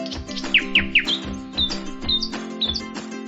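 A bird chirps in quick, bright tweets, several short calls in a row over a steady low background hum.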